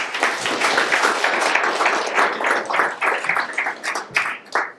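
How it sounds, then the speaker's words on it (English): A round of applause from an indoor audience as a guest is called up to a microphone: dense, steady clapping that stays loud through the whole stretch, thinning into uneven bursts near the end. "Round of applause."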